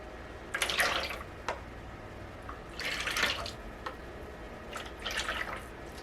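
Thick liquid soap batter pouring from a large bucket into separate containers, heard as three soft, wet splashing pours with quiet dripping between them.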